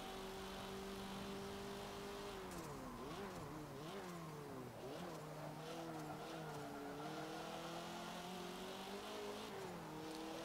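Racing car in Forza Motorsport 7, a 230 horsepower sport compact, its engine droning steadily then revving up and down through gear changes with faint tire squeal, continuous and close, no talking.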